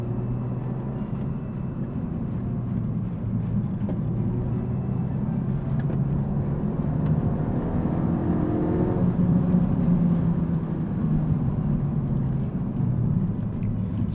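A Renault Megane RS 265 hot hatch drives a twisty mountain road with a steady engine drone and road roar heard from inside the cabin, holding fairly even in pitch and level throughout with no talk.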